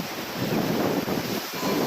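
River water rushes past near Mokeshwar dam during a rise in inflow, a steady, loud broadband roar with wind buffeting the microphone and no voices.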